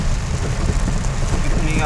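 Steady rain pours down on a busy road during a downpour, a dense constant hiss without pause for the whole stretch, loud and close.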